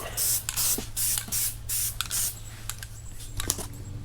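Guide coat sprayed over car primer before wet sanding, heard as several loud hissing aerosol bursts of about half a second each, then quieter scattered clicks and handling noises.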